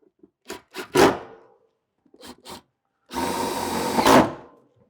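A power drill drives screws through a light fitting into a steel warehouse purlin: two short bursts, a pause, two more brief pulses, then a longer sustained whir that builds before stopping, close and loud.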